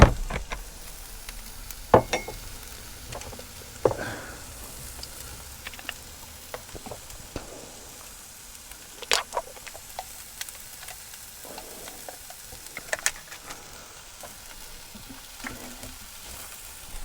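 Chicken sizzles gently in a pan inside a VW T4 camper van, a soft continuous frying hiss broken by scattered pops, ticks and occasional stirring clatter, close by with no talking.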